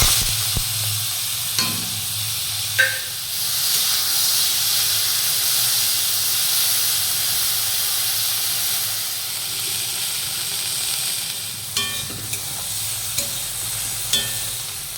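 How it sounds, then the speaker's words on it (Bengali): Small river prawns frying in hot oil in a wok, a steady close sizzle and hiss with a few sharp clinks of a utensil stirring, and no talking. "গরম কড়াইয়ে তেল দিয়ে মাছগুলিকে প্রথমে ভেজে নেব"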